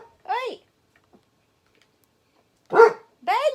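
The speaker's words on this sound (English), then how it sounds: "Stop barking." A pet dog barks, likely at something next door: a sharp bark, a pause of about two seconds, then two more close, loud barks in quick succession.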